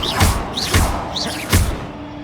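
Three heavy blasts from a Bombarda spell in Hogwarts Legacy boom at roughly even intervals, each a deep close thud with a whooshing burst on top.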